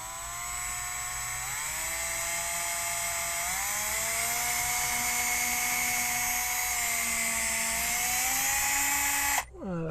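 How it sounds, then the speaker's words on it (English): A power drill with a 1/8 inch bit bores a hole through the top of a water system housing, a steady whining motor close by that shifts pitch as it cuts, then stops abruptly near the end. "we're going to drill a hole in the top of this housing with an 1/8 inch drill bit"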